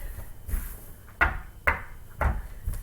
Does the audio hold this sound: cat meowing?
no